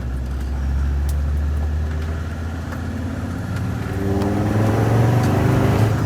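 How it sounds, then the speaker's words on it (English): A warm Land Rover Defender 90 TD5 diesel engine fitted with a hybrid turbo runs steadily, a loud, close, continuous low drone that rises slightly toward the end. "The engine's nice and warm."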